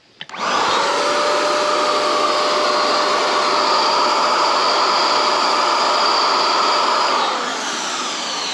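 An electric paint sprayer runs with a loud, steady broadband whir and hiss of atomised liquid for about seven seconds, then drops to a lower, softer motor hum near the end.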